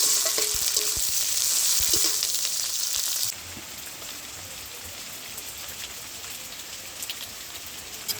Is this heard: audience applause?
no